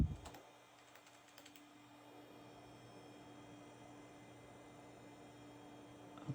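Quick keystrokes on a computer keyboard at a Gateway 2000 P5-90 tower PC during boot, a short cluster of taps at the start, then a steady electrical hum and fan noise.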